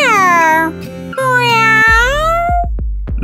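A voice imitates a cat's meow: a drawn-out, pitch-gliding mew close to the listener, followed by a few short clicks and a low rumble near the end.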